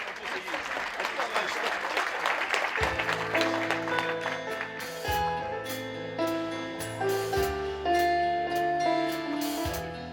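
An audience applauds a singer at a cabaret, a dense wash of clapping that soon runs under sustained music and continues steadily to the end.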